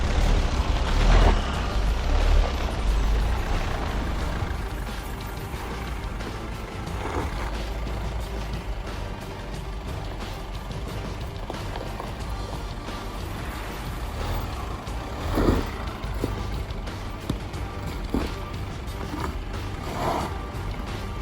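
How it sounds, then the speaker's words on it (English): A 2021 Tata Safari automatic SUV in two-wheel drive crawls over rocky off-road ground, its low engine rumble held steady at modest revs beneath constant creaks, clunks and rattles from the body and suspension. "As you can hear the engine sound,"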